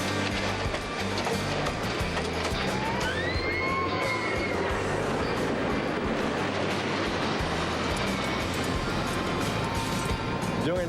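Amusement ride trains run on the track for morning inspection, rumbling and rattling steadily with clanks and brief metallic squeals, while a voice talks over the noise.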